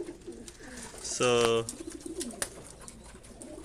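Pigeons cooing in a loft, with soft repeated coos and one louder, clearer coo in the middle, heard close up as someone speaks briefly.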